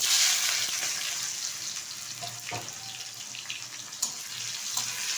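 Chopped onion and tomato sizzling in hot oil in a pan for an egg omelette curry, a steady bright hiss with a few small pops and clatters.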